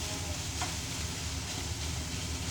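Capsicum stir-fried with chicken powder and paprika while browning gives a steady, dense sizzle with fine crackle throughout, close and even, with no talk.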